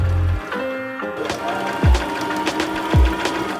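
A sewing machine stitches shoulder and back seams on an upcycled garment, sounding as a few short mechanical runs and thumps with tonal hum, close and fairly loud, with no talk.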